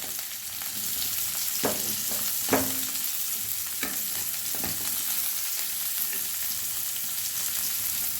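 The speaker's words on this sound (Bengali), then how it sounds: "এবার কড়াইয়ে 2 চামচ তেল দিয়ে তেল গরম করে নিলাম। প্রথমে আমি পেঁয়াজগুলো দিয়ে দিলাম," Onions frying in hot oil in a wok give a steady, close sizzle throughout, broken by a few sharp crackles and scraping stirs.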